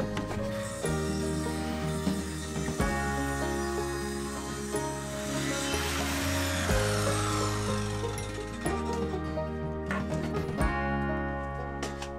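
Scrap wood salvaged from an old house is cut with a power saw, a steady whining drone with shifting pitch that runs the whole time, close and loud, with a few brief changes in tone as the blade works.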